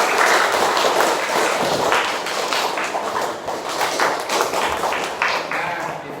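Classroom applause during a religious-studies teaching practice lesson, a group of students clapping steadily and fairly loudly for several seconds, with some chatter mixed in beneath.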